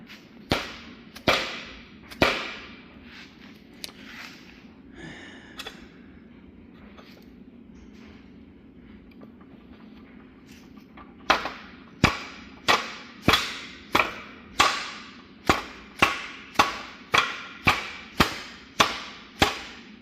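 Sharp metallic soft-hammer strikes while making a steering bushing for a 1977 Ford F-250, a few spaced blows, a pause, then a long steady run of evenly timed hits, loud and close.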